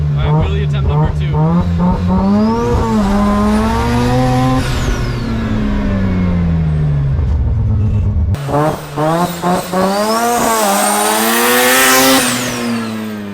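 Rotary-engine Datsun accelerating hard in a wheelie attempt, the loud engine climbing through repeated rising revs and gear changes, up close, with people talking over it.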